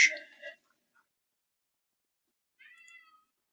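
A cat gives two short, clear meows close by, a brief one at the start and another after a pause of about two seconds, with near silence around them.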